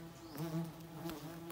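Honey bees fly out of their hive while honey is being harvested, producing a faint, wavering buzz with a few louder passes as individual bees fly close.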